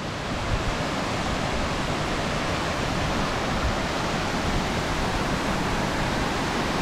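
A swollen mountain river in Arunachal Pradesh rushes in milky white flood, a dense, steady roar of churning water that fills the scene, loud and close, with no voices over it.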